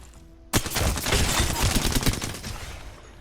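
Sustained automatic gunfire in Apex Legends, fired from the hip with an R-301 or Alternator rifle: a rapid, loud, continuous burst that starts abruptly and rattles on for nearly three seconds without pause.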